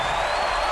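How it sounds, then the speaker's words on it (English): Dense, steady roar of a basketball arena crowd cheering during a Florida versus Georgia game, loud and continuous with no gaps in the brief moment. "This crowd is going crazy."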